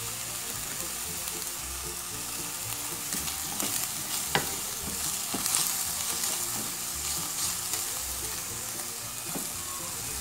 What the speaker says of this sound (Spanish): A freír a que cambie de color. Ya la carne va cambiando de color.